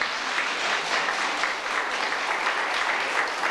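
Dense, steady applause from a crowd honoring Archbishop Henryk Muszyński at a gathering in New Britain, Connecticut, sustained and fairly loud throughout with no pause.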